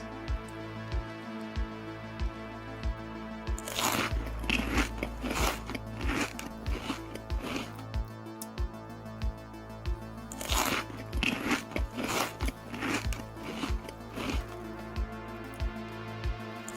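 Close, crisp crunching bites into a pumpkin pie Pop-Tart with fall sprinkles, two bursts of rapid chewing crunches separated by a quieter pause, loud and near with no speech over them.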